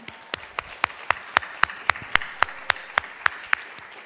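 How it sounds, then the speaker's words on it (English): An audience claps for the panelists at an evening event, with a run of sharp, evenly spaced claps, close and fairly loud, over a low room murmur. "let's continue clapping for our panelists"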